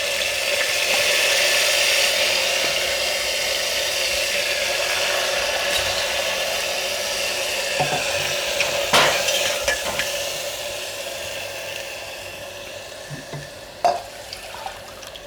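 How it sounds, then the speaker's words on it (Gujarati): Rice goes into a pot of fried cumin seeds and is stirred, a steady close hiss and sizzle that fades a little over time, broken by occasional scrapes and knocks of the spoon against the pot, with no talk. "જીરું લાલ થઈ ગયું છે હવે એમાં આપણે આ ચોખા નાખી દઈશું"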